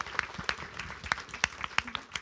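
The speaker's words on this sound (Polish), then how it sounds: "Pan Michał Kajdy, brawa dla niego" Audience applause at a concert after a guest double bassist is introduced, heard as scattered, sparse individual claps in a quiet room rather than a full ovation.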